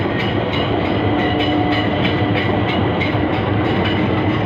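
A train rolls steadily through London Bridge station close by, a continuous rumble with a rhythmic clickety-clack of wheels over rail joints and no voices.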